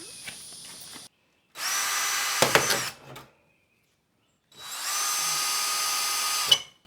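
Power drill drilling out fasteners on a 2006 Fleetwood Niagara pop-up camper, two loud sustained whirring bursts of a second or two each, separated by silence, close up and without talk.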